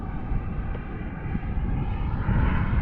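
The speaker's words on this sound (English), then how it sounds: "This is a full burner pass on the ACEx-80 on it." Global Jet Club Hummingbird model jet with an ACEx-80 turbine making a full burner pass, a rushing roar that builds steadily in loudness over a few seconds, heard from outdoors.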